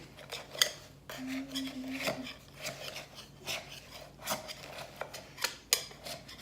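A utensil is run around the inside edge of a pudding basin holding a cooled figgy pudding, giving close scraping and rubbing with small clinks against the basin in an uneven run of strokes.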